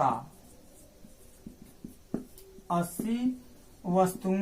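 A pen scratches out the working of a profit-and-loss arithmetic problem in a class 8 maths lesson, leaving a few faint, short strokes and taps before a teacher's voice comes in and talks over the writing.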